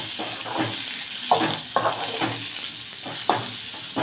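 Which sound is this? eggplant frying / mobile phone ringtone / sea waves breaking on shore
eggplant frying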